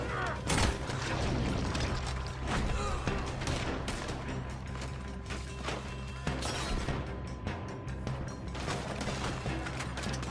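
Heavy gunfire in a Red Dead Redemption shootout: dense, overlapping shots and booming blasts crack almost nonstop for ten seconds, loud and close, with faint voices mixed in.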